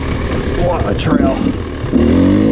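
A dirt bike engine labors under load at close range on a technical single-track trail, its rough motor note rising and falling while a rider talks and exclaims over it.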